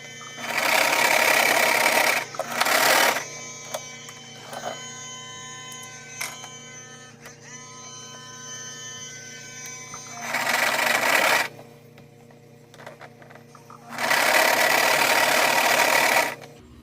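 A sewing machine stitches a quilt-as-you-go project in loud, steady bursts, running continuously for a couple of seconds at a time, with a quieter mechanical hum and clicking in the pauses between runs.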